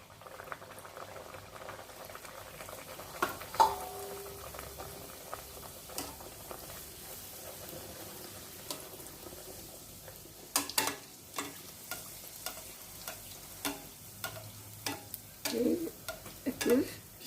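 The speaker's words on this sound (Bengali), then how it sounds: "ভাজতে শুরু করি" Prawn kachori deep-frying in hot oil, a steady bubbling sizzle with occasional scraping clicks and knocks from a spatula, growing busier toward the end.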